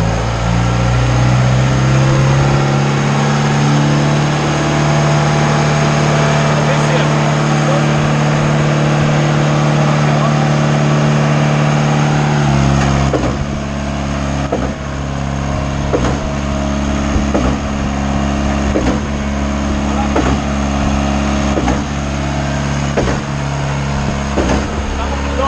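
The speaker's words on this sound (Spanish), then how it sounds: "cuando vas a operar la máquina es importante manejarla a 2100 veces, a 2100 RPM" A Schwing HBV260 concrete pump engine runs steadily at about 2100 RPM, a loud continuous drone with a low hum; partway through the tone drops and a rhythmic knocking of the pumping cycle repeats at regular intervals.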